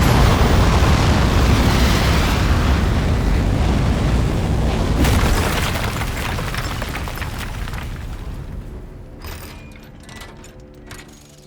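A roaring rocket liftoff in the video game Aperture Desk Job: a loud, dense, rumbling blast with mechanical rattling that gradually fades and thins as it recedes, no speech over it.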